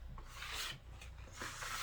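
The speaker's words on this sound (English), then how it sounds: "squeegee off any excess that you don't need" A squeegee scrapes excess CrystaLac clear wood grain filler off a wood surface in short rasping strokes, with a quiet pause between two passes and no talk.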